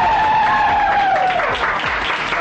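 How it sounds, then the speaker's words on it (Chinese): Studio audience applause on a modelling contest show, a dense, loud, steady wash of clapping with a wavering tone running over it. "掌声。"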